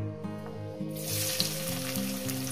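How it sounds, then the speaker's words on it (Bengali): Chopped onions dropped into hot oil over a low gas flame, bursting into a loud, close, steady sizzle after a quieter start, with a faint background hum beneath. "আমি পেঁয়াজগুলো গরম তেলের মধ্যে, গ্যাস আমার জ্বলছে, একদম লোতে দেওয়া আছে"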